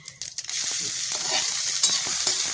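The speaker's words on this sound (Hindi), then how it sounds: "ये देखिए अब इसको हम तड़कने देते हैं।" Whole spices, namely bay leaf, mace, cumin, fenugreek and cloves, crackle and sizzle in hot oil for kadhi, with a steady bright hiss after a few sharp pops at the start.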